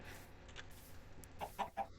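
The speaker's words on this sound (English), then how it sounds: "There are chickens, and they're laying eggs." Chickens in the video game Minecraft give a few soft, short clucks near the end, faint and close together over a quiet background.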